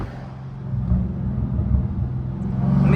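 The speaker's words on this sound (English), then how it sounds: "Y'all hear it popping when I downshift, bro?" Catless Dodge Challenger Scat Pack 392 on a city drive, its engine giving a low, steady rumble from inside the car that swells slightly toward the end; distinct exhaust pops are not clearly evident.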